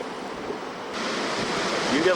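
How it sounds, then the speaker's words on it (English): Huge ocean waves and surf pound the shore during a December 1992 blizzard, a loud, continuous roar mixed with wind buffeting the microphone, swelling louder toward the end. "Unbelievable surf."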